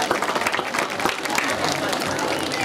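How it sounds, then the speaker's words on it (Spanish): Dense, loud applause from a crowd for a traditional Ecuadorian dance troupe, continuous clapping filling the whole moment with crowd noise mixed in. "Fuerte el aplauso"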